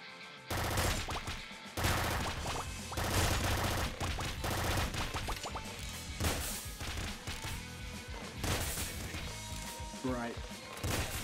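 Enemy gunfire in the Nuclear Throne video game, shots able to pass through walls, crackles as dense repeated bursts mixed with game music and effects, loud and continuous throughout.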